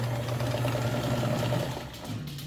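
A Kenmore 158.1400 sewing machine runs a straight stitch at 12 stitches per inch, giving a steady, close mechanical whir with fast even rhythm throughout, slowing slightly near the end.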